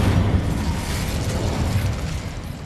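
A fiery Incendio spell bursts in Hogwarts Legacy with a deep, rolling boom that stays loud and rumbling throughout, fading slightly toward the end without any speech.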